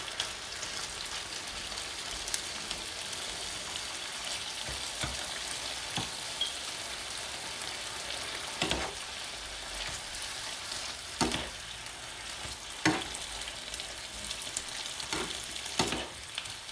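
Chicken and prawn stir fry crackles in a pan with a steady, dense sizzle, punctuated by occasional sharp scrapes and knocks as a utensil mixes it.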